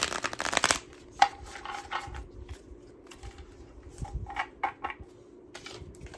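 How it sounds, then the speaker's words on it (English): A deck of tarot cards shuffled by hand, a quick riffle burst at the start followed by softer, irregular card slaps and slides close by, with no talking. "I don't shuffle all cute like all these other tarot readers"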